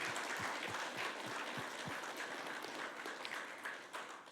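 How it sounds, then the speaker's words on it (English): An audience at a university cyber mixer event applauds, a soft, steady wash of many hands clapping at a distance, fairly quiet and without voices. "Could everyone join with me in a big round of applause for Professor Majeed?"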